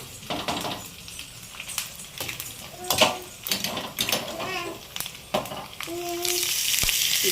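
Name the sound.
sizzling tempering poured into ridge gourd chutney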